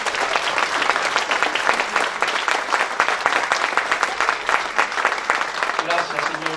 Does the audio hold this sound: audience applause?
yes